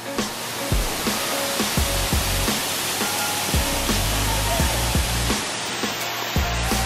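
A tall waterfall at the top of a hiking trail roars as a steady, loud broadband rush, with faint rhythmic thumps running beneath it throughout.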